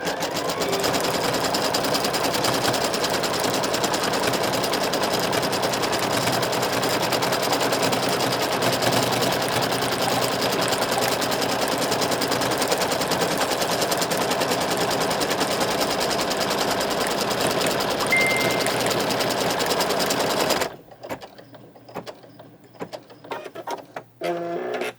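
An embroidery sewing machine stitches a birthday badge with a loud, close, continuous rapid mechanical chatter that holds steady for about twenty seconds, then stops and leaves sparse clicks.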